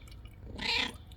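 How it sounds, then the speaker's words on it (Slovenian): A cat gives a short, soft, strained meow close by over a low background hum, with no talking. "muca je tam"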